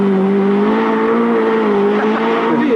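Soren Nilsson's Datsun rally car leading a pack of cars, engines droning steadily at high revs with a rising and falling pitch, loud and close throughout.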